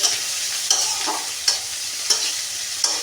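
Chopped onions frying in a pan sizzle steadily up close, broken by regular scraping strokes of a spatula about every three quarters of a second as they are stirred, with no talking.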